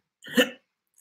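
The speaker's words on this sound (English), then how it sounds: "I've got the hiccups." A single hiccup, sharp and close, a short voiced burst standing alone against silence.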